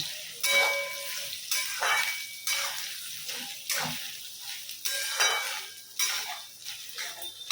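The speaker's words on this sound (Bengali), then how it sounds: "নারকেল কোড়াটা দিয়ে দিলাম। এটা একটু নেড়ে নেব।" Grated coconut being stirred into frying potatoes in a pan while making banana-flower ghonto, a Bengali dish, with repeated metallic scraping strokes of a spoon against the pan and a soft sizzle, close and steady, with no talking.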